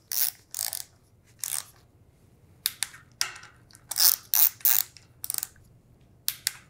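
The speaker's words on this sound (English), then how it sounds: "we're going to use our click wrench. We're going to put a minimal load on each jack bolt" A click torque wrench ratchets jack bolts on a Superbolt tensioner, sharp ratcheting clicks arriving in short separate bursts with brief gaps between them, close and loud with no voices.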